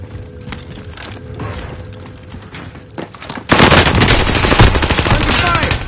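Rapid automatic gunfire in a shooter video game, a dense, loud, continuous burst that erupts midway after quieter mechanical clicks and background game noise.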